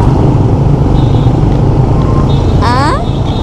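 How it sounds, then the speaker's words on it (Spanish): Heavy motorbike traffic fills a street in Hue, Vietnam with a loud, steady engine rumble from many passing motorcycles. A horn-like or voice-like tone rises briefly near the end. "Y les quiero que vean el tráfico de Hue. Impresionante. Solo motos. Ríos de gente en moto."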